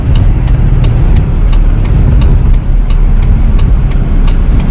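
Toyota Kijang LGX engine running loudly up close while the driver shifts into second gear in a spiral parking ramp, a steady mid-pitched drone with faint periodic ticks over the top.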